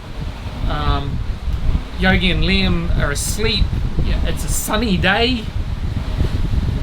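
Steady wind noise roars over a sailing boat heading close hauled at 7 to 8 knots in 13 to 15 knot winds with small whitecaps off the New Zealand coast, continuous beneath someone talking throughout.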